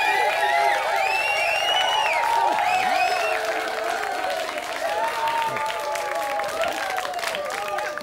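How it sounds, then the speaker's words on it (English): A television studio audience bursts into sustained applause, cheers and whoops as a guest comes on, with loud, dense clapping throughout and excited shouts rising over it. "Do you have to hog all the applause?"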